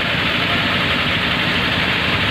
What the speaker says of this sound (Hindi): देखिए बस अभी जा रहा है